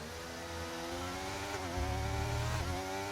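Formula One race car engine in a racing video game on the Spain circuit, a steady high mechanical whine with layered harmonics that shifts pitch slightly as the car moves through a turn, heard alone.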